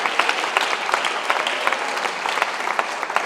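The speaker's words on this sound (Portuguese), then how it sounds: "Aplauda o Senhor, aleluia." Church congregation applauding together during a service, a dense, steady wash of many hands clapping with scattered sharper claps throughout.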